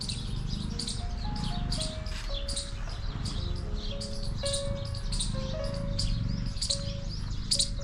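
Birds chirp and tweet steadily throughout, many short calls overlapping against a low rumbling background, fairly close and continuous.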